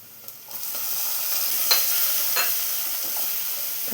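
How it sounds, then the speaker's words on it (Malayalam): Onions and chopped tomato sautéing in a pan for chickpea curry, a soft even sizzle that swells after a moment, with a few spoon scrapes and light stirring knocks, no voices. "തക്കാളി നന്നായി തന്നെ വഴഞ്ഞു വരണം"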